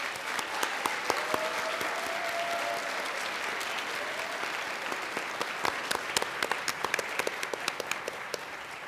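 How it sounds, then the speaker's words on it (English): An audience at a Westmont CUSD 201 school board meeting claps for honored students: a moderate, fairly distant roll of clapping with sharp individual claps popping out, and faint speech underneath. "let's give them a round of applause."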